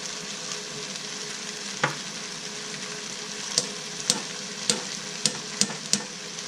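Tomatoes frying in a pan for tomato sauce give a steady close sizzle while a spoon stirs, with a few sharp taps of utensil against the pan toward the end, no talking.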